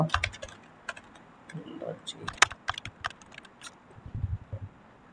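Python code typed on a computer keyboard, with quick, irregular clusters of close, crisp key clicks and a few harder strikes, while someone speaks quietly in between.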